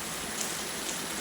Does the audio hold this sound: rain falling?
yes